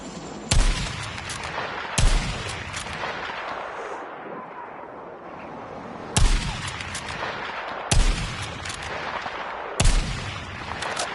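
Gunfire and explosions in the shooter game Battlefield 6, with five heavy booming shots spaced about two seconds apart over a continuous rumble of battle noise.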